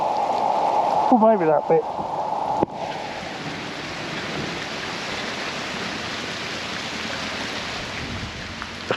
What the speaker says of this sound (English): Talk about rain.